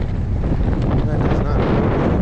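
Strong wind roars steadily and loudly across the microphone while an electric skateboard, a MEEPO Shuffle V4S ER, is ridden at night outside a mall, with broadband buffeting throughout.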